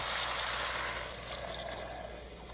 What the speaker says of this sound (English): Now you want to just add back in your beef, Worcestershire sauce, your crushed tomatoes, and your beef broth.